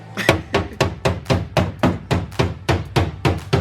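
Steady series of about fourteen sharp, close metallic strikes as a body hammer pounds a car body panel on a Lexus LS 400 being rebuilt for drifting, evenly spaced and loud, with no talk.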